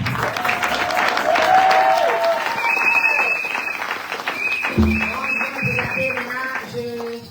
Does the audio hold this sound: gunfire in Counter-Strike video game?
no